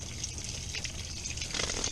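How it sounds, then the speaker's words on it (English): Water drains from the live well of a boat at a launch ramp with a continuous, close gushing and trickling flow that grows slightly louder toward the end. No one speaks. "That's what's draining right now, is the live well."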